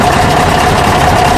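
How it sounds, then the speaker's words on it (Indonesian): A Mercedes-Benz OHL 1634 bus with a V8 diesel engine runs at a steady idle, a loud, close, even drone with a low vibrating rumble and no talk. "Nah, inilah cara kerja mesinnya yang mempunyai tabung 2"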